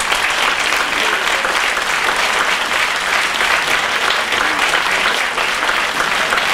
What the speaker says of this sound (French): je vais vous demander d'applaudir conjointement tous nos candidats.